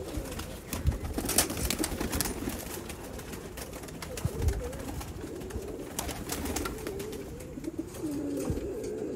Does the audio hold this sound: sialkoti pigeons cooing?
yes